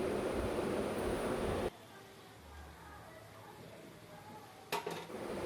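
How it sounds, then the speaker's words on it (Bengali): Shapla (water lily) stems cooked with shrimp are stirred and flipped in a frying pan. A loud sizzling scrape fills the first moments, then quieter frying follows, with a brief clatter of utensil on pan near the end. "আমি এটি ভালো মতো নেড়ে চেড়ে উল্টে পাল্টিয়ে নিচ্ছি যাতে ভালো মতো এটি সেদ্ধ হয় এবং ভাজা হয়"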